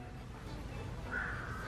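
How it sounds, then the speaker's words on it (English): Black crows cawing outdoors, a single faint caw rising briefly over a low steady background rumble. "there's so many black crows"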